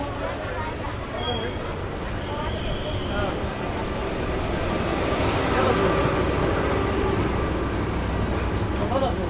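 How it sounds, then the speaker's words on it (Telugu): A passenger train rolls past at Bapatla railway station, a broad steady rumble that swells toward the middle and stays loud, with voices audible under it. "తిరుపతి బిలాస్పూర్ ఓవర్టేక్ అండి ఇక్కడ మనం బాపట్ల రైల్వే స్టేషన్లో జరుగుతుంది"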